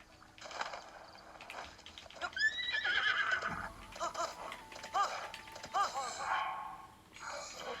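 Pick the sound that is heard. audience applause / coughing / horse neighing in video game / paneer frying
horse neighing in video game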